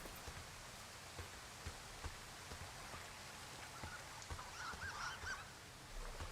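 Ducks quack in a small cluster of honking calls on a lake in the video game Firewatch, faint and distant over a soft patter of rain and ambient wilderness noise.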